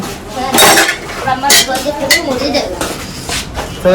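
Pots and metal utensils clink and clatter in a home kitchen while iftar is being cooked on the first day of Ramadan, with several sharp knocks under ongoing talk.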